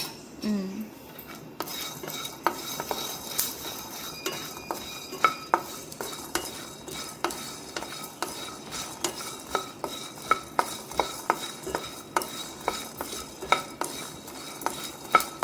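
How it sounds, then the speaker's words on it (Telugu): Coriander seeds, cloves, cinnamon and sesame seeds being stir-fried in a pan for an Andhra-style stuffed brinjal masala curry, with a steady run of sharp spoon scrapes and clinks against the pan over a quiet, faint sizzle. "ఈ ధనియాలు, లవంగం, చెక్క, ఇవి అవి కూడా కొంచెం వేయించాక నువ్వులు వేసుకున్నాం."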